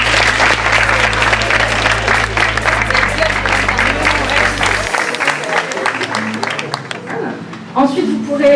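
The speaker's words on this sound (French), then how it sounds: "Vous pouvez les applaudir bien fort." Audience at an alumni day event applauding loudly and steadily, dense clapping filling the room before easing off toward the end, with a few voices and stray claps emerging.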